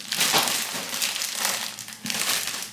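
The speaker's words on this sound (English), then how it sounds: "let's take it out of this package" Plastic packaging crinkles and crackles close up as a hair bundle is pulled out, in a few bursts of handling noise.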